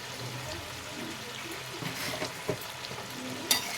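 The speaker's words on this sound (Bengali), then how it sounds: "আবারও সব মশলাগুলোকে নাড়িয়ে নেব ভালো করে" Powdered spices (turmeric, chilli, coriander, cumin) fry in a pan while being stirred, with a soft steady sizzle and occasional scrapes and clicks of the spoon, fairly quiet throughout.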